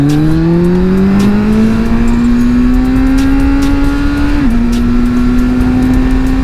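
Four-cylinder roadster motorcycle engine while riding, a loud, steady droning hum that rises slowly in pitch as it pulls, dips briefly at a shift or throttle change, then holds on with constant wind noise.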